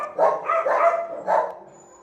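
Puppies bark in a short burst of three or four close, high yips and woofs, loud and clear with a quiet background.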